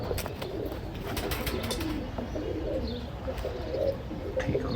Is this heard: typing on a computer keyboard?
no